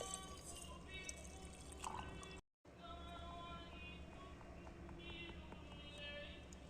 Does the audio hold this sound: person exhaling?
no